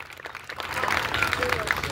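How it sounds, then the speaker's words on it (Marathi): Crowd of listeners at a Marathi public talk breaking into loud, sustained applause for the event organisers, building from scattered claps into a dense, close wash of clapping. "त्यांच्यासाठी एकदा जोरदार टाळ्या वाजूयात"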